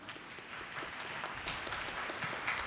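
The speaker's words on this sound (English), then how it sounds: "may we have a huge round of applause for our timekeepers." An audience at a school inter-debate meet gives the timekeepers a round of applause, soft, even clapping that sounds distant and continues steadily for a few seconds without voices.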